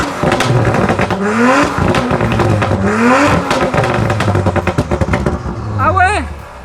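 Audi RS5 with a non-factory setup revving hard and close, repeated rising engine sweeps with crackles, one sharp high whine near the end, people talking briefly over it.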